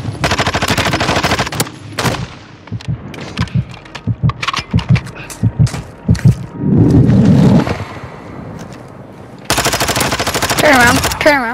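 Gunfire in the video game Call of Duty DMZ, loud rapid automatic bursts in repeated volleys broken by short pauses, with voices speaking between the shots.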